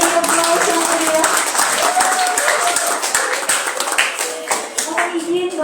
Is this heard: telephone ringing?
no